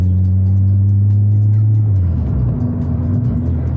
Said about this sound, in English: Cannot believe that I'm driving my K-swap.